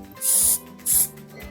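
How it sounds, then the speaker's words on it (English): Gloss sealant sprays from an aerosol can nozzle onto Halloween fridge magnets and key chains in two loud, close hissing bursts, each about a third of a second, with a brief pause between. "From some distance, just spray like this."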